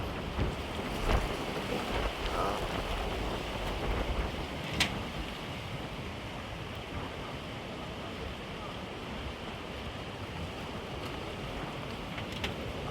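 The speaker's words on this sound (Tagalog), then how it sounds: "pumapasok na yung alon" Big ocean waves roll in around moored fishing boats and a crane, giving a constant loud wash of surf and wind noise with a few sharp knocks, and no talk.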